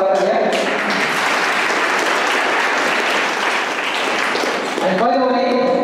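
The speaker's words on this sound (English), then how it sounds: "Give them applause again for our brother here." A college lecture audience in Durg, India applauds steadily and loudly for about five seconds, a dense continuous clapping that ends abruptly, with a voice briefly audible at the start and again as the clapping stops.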